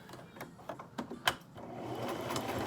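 A sewing machine stitches lines on a fabric mask, quiet close-up mechanical clatter with a few sharp ticks, then settling into a steady faster whir.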